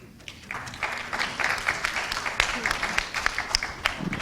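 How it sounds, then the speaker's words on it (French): A conference audience applauds in a hall, with steady, moderately loud clapping spread across the room and sustained over several seconds. "Merci pour les applaudissements."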